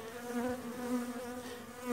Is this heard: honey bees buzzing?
yes